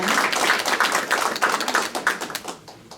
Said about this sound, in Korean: 먼 곳에서 오셨으니 큰 박수 부탁드립니다